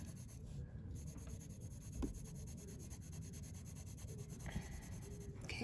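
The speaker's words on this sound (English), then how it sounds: "And then we just color in 3 of these squares." A pencil rubs steadily over paper, coloring in squares on a math worksheet with a continuous scratchy, scribbling texture at close range and moderate level, with no talking.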